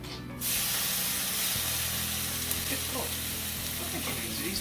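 Birria taco meat sizzles and spits loudly in a hot pan, a constant broad hiss with small pops, starting abruptly after a moment of quiet.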